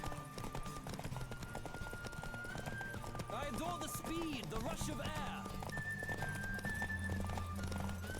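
A horse gallops in The Witcher 3 with rhythmic clopping hooves and a few whinnies, while someone talks over it and jingling tack clinks faintly.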